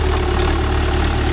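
A Mahindra tractor diesel engine idles up close, loud and steady, with a regular low chugging pulse and a slight irregular knock in its rhythm.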